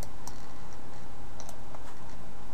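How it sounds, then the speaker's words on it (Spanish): Mouse clicks on a computer while selecting digital coupons, a few sparse, light clicks spread over a steady background hum. "Le voy a hacer clic a estos productos de Hergens"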